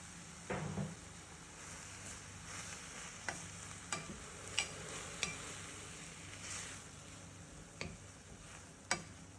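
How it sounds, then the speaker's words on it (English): Cooked Puy lentils are stirred into baked aubergine in a pan over a soft, steady sizzle, with scattered light clicks and scrapes of the spoon against the pan. "Then add in the cooked lentils on top of them to combine."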